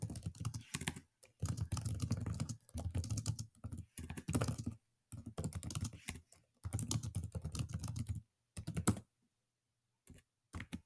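Typing on a computer keyboard comes in quick, soft bursts of key clicks separated by short pauses, close and quiet, ending in a few isolated taps.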